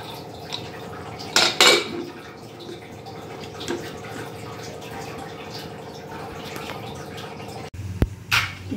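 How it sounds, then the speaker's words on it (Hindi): Metal clanks sharply a few times as a pressure cooker lid is handled and locked over cooking dal, with a final clack near the end over faint background hum. "तो चलिए कुकर का ढक्कन बंद कर देते हैं।"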